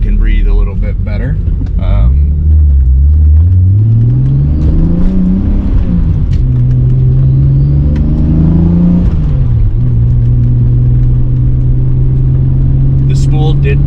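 A turbocharged BMW E34 525i with a larger turbo is driven, its engine note rising and falling through gear changes, loud and close, with a steady whir and low rumble under it.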